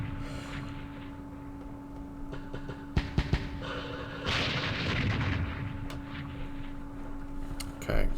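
Booming artillery fire from the Vietnam war game Campaign Series Vietnam, Dien Bien Phu scenario: a quick cluster of sharp reports, then a longer rumbling blast over a steady low hum.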